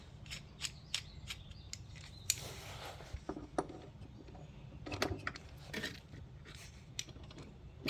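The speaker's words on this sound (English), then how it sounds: "Cut the silver pipe on the filter dryer, and you braze a tube on there." Cutting copper pipe on a refrigerator's filter drier: a series of sharp clicks and snips with a brief grinding burst, close up and fairly quiet, no talking.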